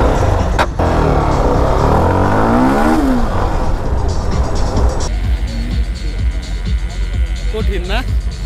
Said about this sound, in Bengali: ও মাই গড, হুইলি হয়ে গেছিল।